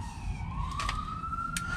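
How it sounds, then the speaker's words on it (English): Emergency vehicle sirens wail outdoors at a distance, a faint rising tone sweeping upward across a couple of seconds over low background rumble, with brief clanks close by. "oh, I hear the sirens out there"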